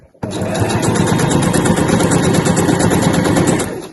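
A sewing machine with a jeans-weight needle runs steadily down the side seams of a weekender bag, a loud continuous buzzing whir that starts abruptly and holds for several seconds with no talk.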